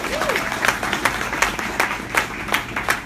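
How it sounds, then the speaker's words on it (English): Applause and clapping fill a 2017 graduation ceremony for Just Leadership USA graduates, a steady patter of hands with sharper bursts recurring through the crowd, moderately loud, with faint voices mixed in. "Let's give a round of applause for the graduates."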